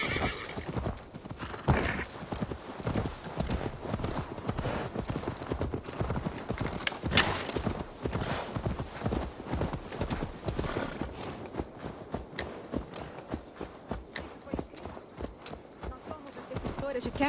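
Horse hooves clip-clop in a steady walking rhythm in Assassin's Creed Valhalla, with a whinny rising over them. People talk throughout the clip.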